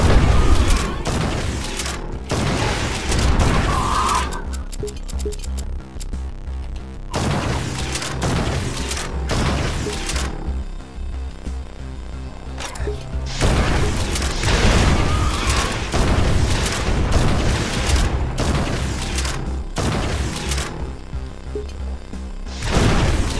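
Heavy, rapid gunfire and booming blasts from the first-person shooter Project Warlock fight against succubus enemies in a hellish level, loud and nearly continuous with brief gaps between volleys.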